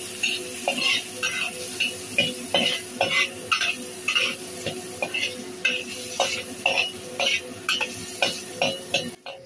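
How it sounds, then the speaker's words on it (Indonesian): Shrimp frying in hot oil in a wok for a Hong Kong-style dish, loud close sizzling broken by rhythmic metal spatula scrapes and stirring clanks, steady throughout. "ini aku panaskan wajan, kemudian aku kasih minyak. Ini yang aku mau masak dulu udangnya ya teman-teman."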